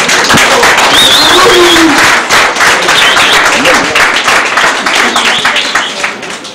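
A crowd applauds steadily at a fan club reception in Johannesburg, dense clapping filling the space with a few faint voices mixed in, tapering slightly toward the end.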